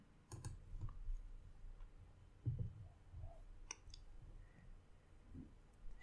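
A few faint, sharp computer clicks sound close by in a quiet room, scattered singly with pauses between them and no talk.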